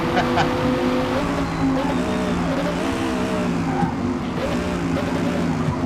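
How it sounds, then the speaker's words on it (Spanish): Several Dodge Viper ACR V10 race car engines in a racing video game roar together in a steady, loud drone, with harmonic engine tones rising and falling as they rev and shift. "Mucho ruido, todos los B10 rugiendo al mismo tiempo."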